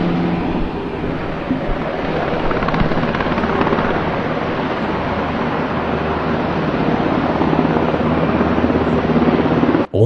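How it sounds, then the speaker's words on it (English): US military escort helicopters fly overhead as Marine One lands at the University of Nairobi grounds. A loud, steady rotor roar runs without a break for about ten seconds, with no talking. "President Obama once again was airlifted to the University of Nairobi grounds in Marine One under the deafening surveillance of heavy aerial escort by US military helicopters"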